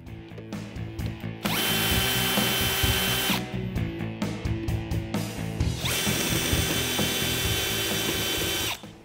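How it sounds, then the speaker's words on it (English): A power drill backs out the inner screws of a Jeep Wrangler JK taillight, two loud whirring bursts broken by ratcheting clicks and short pauses, close up with no talking. "To remove this taillight, all you have to do is remove the two inner screws."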